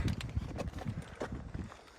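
A trekking pole taps the rocky trail in quick, irregular knocks while a hiker walks the Annapurna Circuit toward Tilicho Lake in the Himalayas. The taps sound close, mixed with footsteps and outdoor noise.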